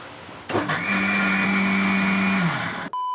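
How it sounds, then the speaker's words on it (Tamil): An electric mixer grinder whirs loud and steady for about two seconds while grinding masala with salt for a Malabar prawn curry, then winds down and stops. "அம்மா வந்து அரைக்க போகிறாங்க, பார்க்கலாமா?"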